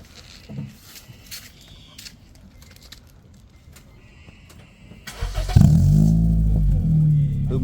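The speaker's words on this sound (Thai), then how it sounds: "เร่งๆหน่อยครับ กดเลยอย่างเงี้ย" A Honda Jazz GK revs hard through an HKS Carbon exhaust, a loud deep roar rising after a quiet stretch of faint background noise and swelling into sustained throttle blips near the end.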